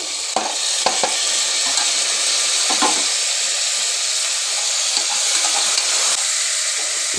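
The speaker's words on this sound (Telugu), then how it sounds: "ఎండుమిర్చి వేస్తున్నాను ఫ్రై అవ్వడానికి కొంచెము. ఇందులో టమాటాలు కూడా వేసేయండి." Dried red chillies and tomatoes frying in a pan, a loud, steady sizzle with occasional stirring clicks and scrapes throughout.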